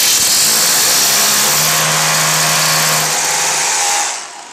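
An SDS hammer drill drives wall plugs into plasterboard, giving one loud, steady whirring burst that lasts about four seconds and then cuts off.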